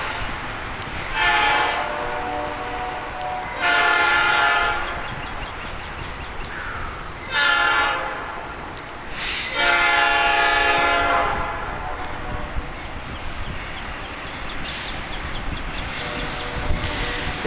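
A Metra commuter train passes in Lockport, sounding its horn in several separate blasts with steady rail rumble underneath, loud and fairly near.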